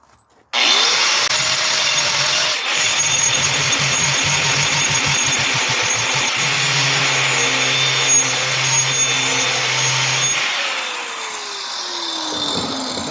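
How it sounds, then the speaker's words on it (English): A grinding wheel shapes a rattan sword handle for armored combat, starting abruptly into a loud sustained whine with shifting rasping tones as the wood is pressed against it, then winding down at the end. "Now, as you saw when I was grinding, the round wheel kind of pushed it off to the side"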